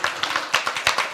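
A small group claps at a cohort graduation ceremony for a theological leadership center, with a few distinct, uneven hand claps close by, no talking.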